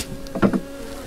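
Honey bees buzz at an open hive frame of sealed brood, a brief, close cluster of two or three buzzing swells over a quiet hum.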